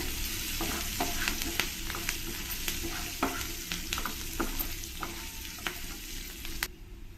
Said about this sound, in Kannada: ಈರುಳ್ಳಿ ಎಲ್ಲ ಸ್ವಲ್ಪ ಚೆನ್ನಾಗಿ ಫ್ರೈ ಆಗಿದೆ